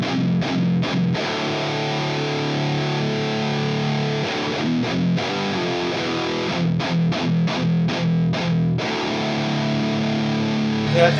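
Electric guitar played through an Eart GW2 pedal with delay, a thick, slightly bassy distorted tone with chords and riffs running steadily throughout, loud and close with no talk.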